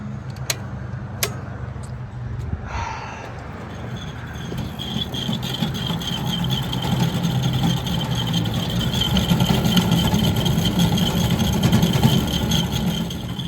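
An outdoor HVAC condensing unit's compressor runs after being pushed in by hand; the unit had iced up and was struggling on low speed. A steady, close mechanical drone follows a few sharp clicks and slowly swells louder.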